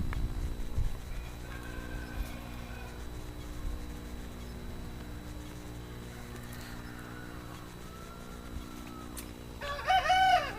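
Chickens cluck faintly in the background in a garden while eating, over a low steady hum, with a louder squawk near the end.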